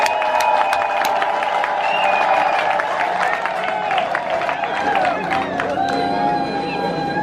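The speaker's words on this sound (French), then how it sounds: "Applaudissons." Crowd at a ceremony welcoming the king of a community applauds and cheers loudly, steady dense clapping with shouts and babble throughout.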